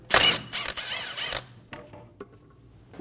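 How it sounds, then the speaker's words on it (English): A 14mm socket wrench working a banjo bolt off the rear brake caliper of a 2008-2015 Scion xB, a loud quick ratcheting burst followed by a few fainter metallic clicks and taps. "Using a 14mm socket,"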